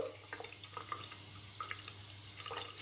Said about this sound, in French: Moi, je fais couler un petit brin d'eau.